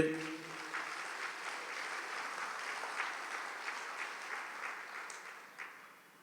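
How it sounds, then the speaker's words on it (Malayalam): A congregation claps along together during a Catholic prayer session, producing a steady, continuous patter of hands that sounds fairly soft and slightly distant for several seconds. "ഒന്ന് കൈ കൈയടിച്ച്"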